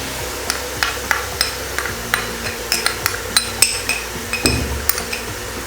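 Metal spoon clinking and scraping steadily against a pot while minced meat with garlic-ginger paste fries for kachnar qeema, the irregular taps close and distinct over a low sizzle.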